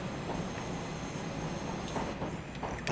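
A Class 390 train in Train Sim World 5 rumbles past on the Euston to Milton Keynes line, giving a steady, fairly quiet rolling drone with faint rhythmic wheel clicks and no talking.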